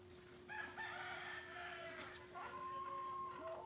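Chickens in a backyard coop cluck while a rooster crows, faint and a little distant over a steady background hum, with no voices.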